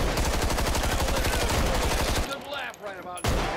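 Rapid automatic gunfire in the zombie shooter Contagion, a steady stream of close, loud shots for about two seconds, then a short pause and scattered game sounds before another shot.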